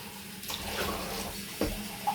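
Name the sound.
washing drinking glasses under a running tap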